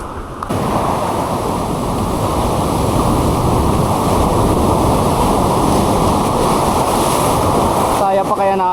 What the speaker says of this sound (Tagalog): Bilisan lang natin, lumalakas yung wave guys.